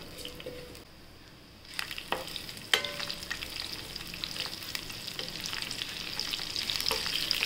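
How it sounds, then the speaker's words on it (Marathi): Cumin seeds and green chillies hit hot oil in a pan for sago khichdi, setting off a steady close sizzle with crackling pops that grows denser and louder after a brief quiet start. "त्याच्यात आपण आता तेल तापलं की जिरं टाकूया। जिरं टाकूया, हिरवी मिरची टाकूया"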